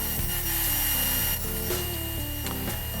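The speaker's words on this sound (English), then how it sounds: "jointed one edge and ripped them to final width on the table saw" Table saw ripping elm boards to final width, a steady loud machine hum with rising and falling blade tones as the wood feeds through, close and alone without talk.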